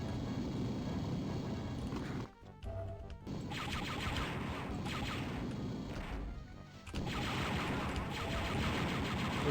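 Continuous loud gunfire and impacts in Star Wars: Dark Forces inside a mining facility, a dense blaster barrage running nearly the whole time with two brief lulls.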